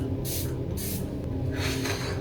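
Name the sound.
skincare setting spray mist being sprayed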